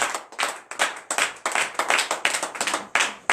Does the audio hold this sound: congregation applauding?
yes